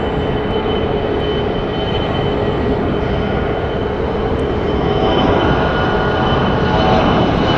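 A SkyWest airliner takes off from Phoenix Sky Harbor Airport, its jet engines a loud, steady broadband roar that holds throughout without talk.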